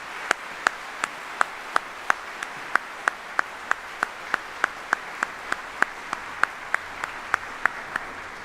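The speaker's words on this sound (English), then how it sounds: "please join me in a round of applause for these 35 incredible soldiers and civilians." Soldiers and civilians are applauded at a Department of the Army retirement ceremony: a steady wash of audience clapping with one sharp, close clap landing on a strict regular beat throughout.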